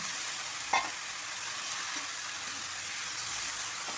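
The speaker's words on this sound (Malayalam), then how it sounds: "ഇനി ഇതിലേക്ക് എടുത്തു വച്ചിരിക്കുന്ന ചിക്കൻ ചേർത്ത് കൊടുക്കാം" Chicken frying with sautéed onions in a pan, a steady close sizzle with one brief clink of a stirring utensil near the start and no talk.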